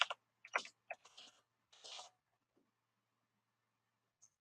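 Keys tapped on a computer keyboard in short irregular bursts of clicks, close and fairly quiet, with pauses between flurries and a single faint tap near the end.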